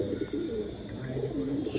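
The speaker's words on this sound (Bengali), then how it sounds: "তো মূলত এই কবুতরগুলারেই আমরা সবুজ গোলা কবুতর হিসাবে কাউন্ট করি বা ধরি" A green gola pigeon on a rooftop gives soft, rolling low coos in short repeated phrases, close and clear against light background noise, with no speech.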